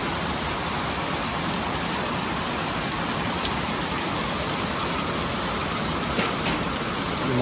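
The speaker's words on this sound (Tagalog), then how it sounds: "Lumakas ang ulan." Heavy rain pours steadily and loudly, a dense continuous roar of drops with no voices.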